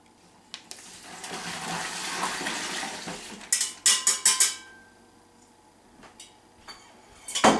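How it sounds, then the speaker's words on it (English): Brine liquid poured into a pot over a turkey, a rushing splash building for a few seconds, followed by loud clanks of the pot and handles and a final knock, close up with no talking. "I'm going to add our brine liquid"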